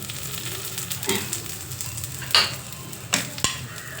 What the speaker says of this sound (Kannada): ತೆಂಗಿನಕಾಯಿನ ನಾನು ಅದರೊಳಗಡೆ ಹಾಕ್ತಾಯಿದ್ದೀನಿ ಹುರಿಯೋದಕ್ಕೆ